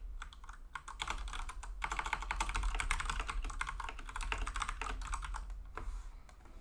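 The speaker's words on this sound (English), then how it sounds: "I like how your keyboard is louder than your voice" Rapid, dense keystrokes on a computer keyboard clatter steadily and loudly close to the microphone throughout, during a break between games of an esports tournament final, with no talking.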